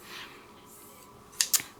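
Crafter's Companion 9-inch coated craft scissors handled near the microphone, a soft rustle followed by two quick sharp metallic clicks of the blades.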